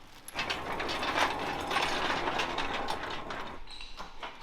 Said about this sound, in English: we'll get the cherry picker and get this motor picked up and put in place over there on the van frame